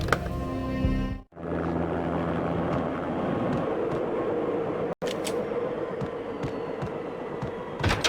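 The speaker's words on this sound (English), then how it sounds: "An armed helicopter just landed on the manor grounds." Armed helicopter landing on manor grounds in the video game Max Payne: a loud, steady rotor and engine roar fills the scene, broken by two brief dropouts, with no speech.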